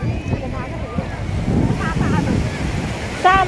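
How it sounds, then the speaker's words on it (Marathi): Sea waves wash onto the shore at Diveagar beach on the Konkan coast, a continuous surf roar mixed with wind buffeting the microphone, with faint voices nearby. "इकडं पाणी आहे बघा अथांग असा समुद्र पसरलेला आहे"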